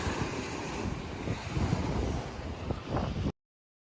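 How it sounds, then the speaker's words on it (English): Large ocean waves churn and crash under strong wind buffeting the microphone, a steady broadband roar with surges near the middle and end, no voices. "these waves are huge for what we have out here."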